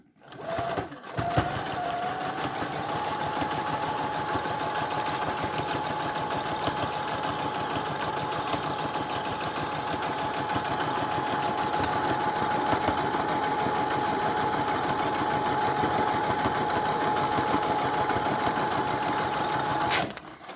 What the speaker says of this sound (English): making sure that you keep your fabric straight and taut as you run it through the machine